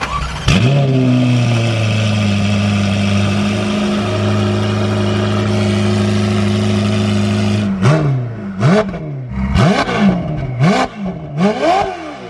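Ferrari 488 Pista with a Novitec exhaust idles with a loud, deep drone, then gives a series of sharp, close revs, about five quick rises and drops in pitch, with no talk.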